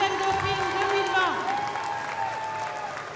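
Applause from the audience at the Miss Wallis & Futuna 2020 gala for the second runner-up, soft clapping heard under music with sustained tones and a voice over the top.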